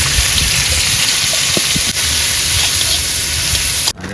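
Onions and chillies fry in oil, a constant close hiss with a few faint clicks, cut off abruptly near the end.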